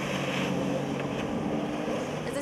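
A jet ski engine powers a flyboard over water, giving a steady, continuous motor roar with wind-like rush throughout, no breaks or voices.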